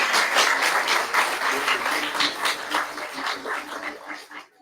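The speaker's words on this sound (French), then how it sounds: "On l'applaudit très, très fort." An audience at an official ceremony with the Prime Minister of Senegal applauds loudly in a dense wash of clapping that tapers off at the end, with a few voices faintly underneath.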